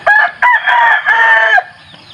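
A close, loud mestizo fighting cock crows and clucks in a few harsh, ringing bursts with short breaks between them, then trails off to faint background sounds.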